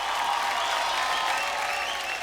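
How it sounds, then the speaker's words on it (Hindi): A dense, even burst of applause from a large crowd at an entertainment show with a comic rap battle, many hands clapping steadily and loudly throughout with no talk on top. "इसलिए उनके लिए तालियां हो जाए"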